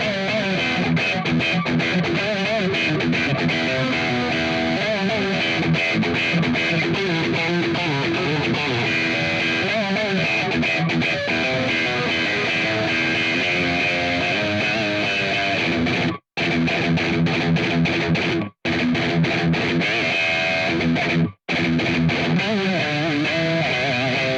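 Electric guitar, a Jackson Pro Plus, with a bright, metallic split-coil tone playing continuously and loudly, with a few abrupt brief cutouts near the end.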